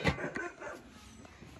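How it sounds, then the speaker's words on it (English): Dogs barking near an outdoor Trane air conditioner, a sharp loud bark at the start followed by a few softer yips and whimpers fading off. "The dogs."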